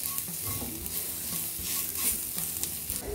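Coriander leaves tossed into a hot tempering for a whole masoor curry, giving a steady close sizzle and frying crackle with stirring scrapes throughout, no voices.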